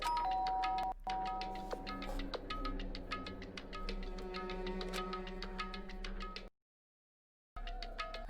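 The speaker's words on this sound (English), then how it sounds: "pressed the doorbell" A video game doorbell chimes against a humming background, its tones ringing out, then a brief silence before the sound resumes.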